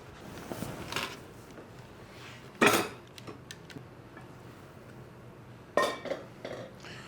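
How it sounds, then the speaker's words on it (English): A lid lifted off a hot bread-baking vessel pulled from the oven, making two sharp, close metallic clanks a few seconds apart, each followed by smaller knocks and clinks against a quiet kitchen background. "we're going to take the top off and then put the vessel right back in the oven to continue the bake"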